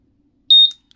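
A Honda Click 150 V2 motorcycle alarm gives two short, loud, high electronic beeps, the second cut short as a burst of noise follows, against near silence.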